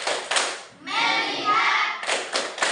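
A group claps in short rhythmic bursts as a focus exercise. Quick clap sequences open and close the moment, with a spoken chant between them.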